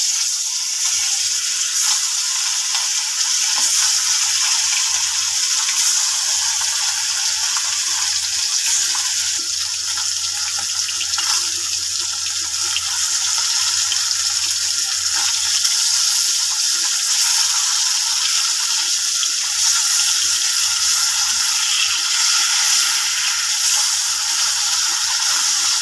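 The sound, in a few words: hilsa fish frying in hot oil in a wok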